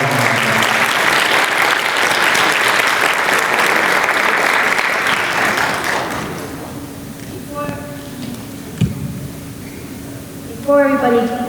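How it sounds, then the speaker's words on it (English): A school board appreciation meeting erupts in a loud, sustained round of applause for the board members, which fades after about six seconds into quieter room noise with a few knocks and a brief voice. "Let's have one more round of applause for all of them"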